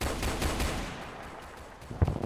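Gunfire in the Roblox game Brookhaven, a few sharp digital shots spaced apart, the last one louder and punchier, with no talking over them.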